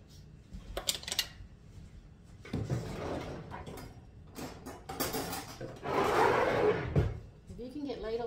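A ladle pulled from a kitchen drawer: a few short knocks and a scraping slide of wood and metal, close by, mixed in with steady talk from a nearby voice.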